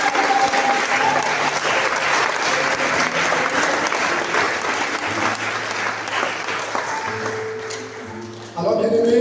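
Church congregation applauding and cheering in praise during a worship service, a sustained dense wash of clapping that carries on for several seconds, with voices mixed in, before easing off near the end.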